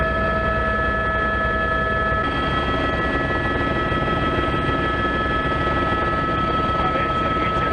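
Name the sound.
helicopter flying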